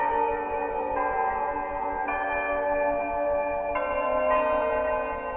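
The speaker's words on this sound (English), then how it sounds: "And we get to hear the nice church bells." Church bells ring in a steady sequence of sustained, layered tones, each strike blending into the next with a bright, electronic quality, from the video game Five Nights at Wario's Remix after completing night two.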